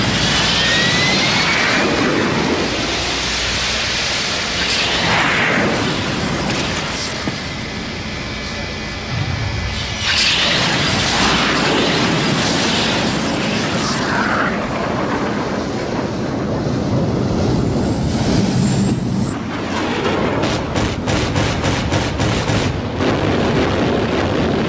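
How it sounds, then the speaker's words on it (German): Fighter jets launching in quick succession from American aircraft carriers, a loud sustained roaring jet engine rush with heavy wind noise and swelling passes throughout. "Von 8 amerikanischen Flugzeugträgern starten in schneller Folge die Kampfflieger."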